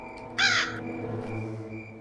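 A crow in the video game Granny 3 gives a single loud, harsh caw, followed by a fainter second call, over a steady low game hum.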